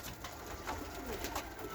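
Pigeons coo softly amid a steady hiss of background noise, with several low calls spread across the moment.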